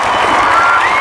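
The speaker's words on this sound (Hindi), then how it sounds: "जोरदार ताली इसके लिए," Loud, dense applause from a crowd of school students in a classroom celebrating a maths challenge, a continuous clatter of clapping with no gaps.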